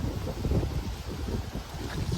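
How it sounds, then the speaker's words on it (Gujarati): Cold wind blows outdoors in a Canadian residential neighbourhood, a steady low rumbling gust buffeting the microphone throughout with no voices. "આજે ઠંડો પવન છે."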